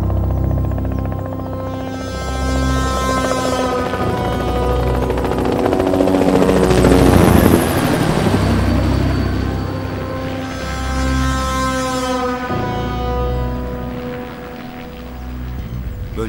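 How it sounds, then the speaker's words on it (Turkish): A helicopter's steady rotor drone swells and recedes, growing loudest near the middle before fading again, with a deep pulsing hum throughout. "Helikopter."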